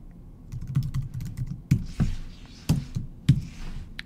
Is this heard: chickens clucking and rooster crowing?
no